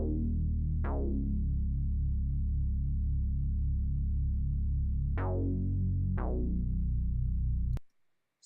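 A deep, warm analog synth bass plays sustained, buzzy notes with bright plucky attacks, re-struck twice near the middle and once more, then cutting off abruptly at the end.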